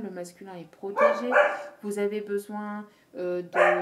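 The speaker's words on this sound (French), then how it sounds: "Excusez-moi pour mon chien." A pet dog barks indoors in a few short bursts, close by and partly overlapping a person speaking.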